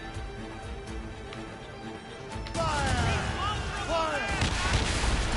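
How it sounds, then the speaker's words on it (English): A Puckle gun fires in the naval video game Assassin's Creed Rogue, its booming shots blending into a dense, loud battle din with whistling sounds after a sudden surge midway. "hoping the puckle gun works."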